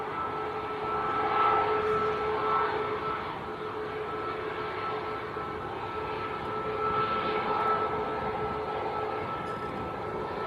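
A Ryanair jet taxis on a taxiway at Manchester Airport, giving a faint, steady engine roar and whine that swells slightly and fades, heard from a distance with no talk.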